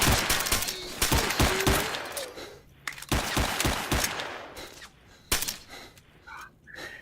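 Enemy gunfire in the shooter game S.T.A.L.K.E.R.: Shadow of Chernobyl: loud bursts of rapid automatic fire alternate with single sharp shots, several volleys in a row with brief lulls between them, and no talk over it.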